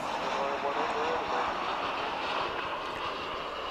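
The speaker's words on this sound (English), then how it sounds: "We've got American Airlines, looks like an A319 here." An American Airlines Airbus A319 at DFW Airport after dark, a steady airplane engine roar at moderate distance with no clear change.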